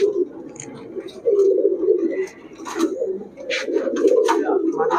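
Palla line pigeons coo in low, rolling, repeated calls close by, with a few higher chirps and faint voices in the background.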